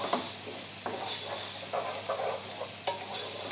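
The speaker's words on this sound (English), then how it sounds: "And then just give that a nice stir through." A spoon stirs peas through risotto in a pan, scraping in short, irregular strokes over a soft, quiet sizzle, close up with no talking.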